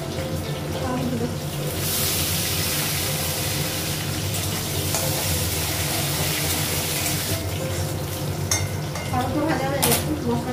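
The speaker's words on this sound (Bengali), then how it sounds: "আলুটা ভাজা হয়ে গেছে।" Potatoes frying in a pan with panch phoron, green and dried chilli, giving a loud constant sizzle with occasional stirring scrapes and clinks close by.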